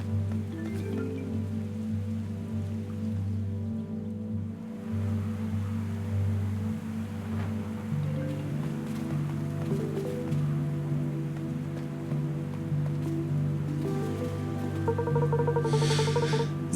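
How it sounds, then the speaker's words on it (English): Steady rain falls outdoors as a constant close hiss of drops, with a low continuous hum running underneath and no talking throughout. "Like the atmosphere with the rain."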